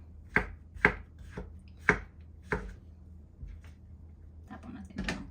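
Mushrooms being sliced with a knife on a cutting board, a handful of sharp, separate chops at an uneven pace, close and fairly loud, with soft kitchen clatter toward the end.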